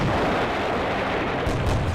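Continuous rumbling artillery barrage in the World War II strategy game Combat Mission: Beyond Overlord, loud and dense, with heavy booms rolling over one another and a sharper blast near the end.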